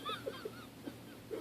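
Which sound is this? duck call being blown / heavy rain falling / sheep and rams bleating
duck call being blown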